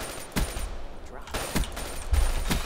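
Rapid bursts of XR-2 rifle fire from Call of Duty: Black Ops 3 crack out in three or four loud, closely spaced volleys, each a short rattling spray over a low rumbling game soundscape.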